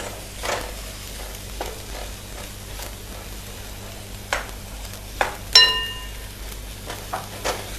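Potatoes and green peas sautéing with garam masala in a pan on low heat, a soft steady sizzle broken by a handful of sharp spoon scrapes and clinks against the pan, with no voices.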